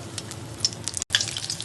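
Mirchi vada chili fritters deep-frying in hot oil over a high flame, a dense continuous bubbling sizzle with faint crackles, broken by one very brief dropout.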